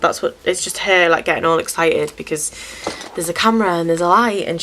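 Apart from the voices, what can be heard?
No everyday noises stand out.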